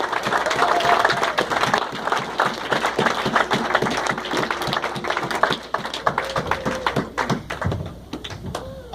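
Loud, close applause from a church congregation standing to acclaim their pastors, brisk overlapping claps with a few rhythmic beats and scattered voices, gradually thinning into separate sharp claps toward the end.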